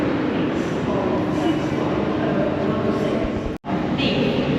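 A train stands at London Paddington Station under a steady rumbling hum of engines and platform noise, close and continuous, broken briefly by a sharp cut near the end.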